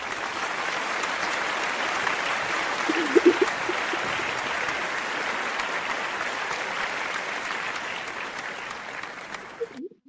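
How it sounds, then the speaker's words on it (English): A group applauds itself for its dedication, a continuous, moderately distant spread of clapping hands that holds steady for several seconds before tapering off at the very end. "let us give ourselves some applause for our dedication"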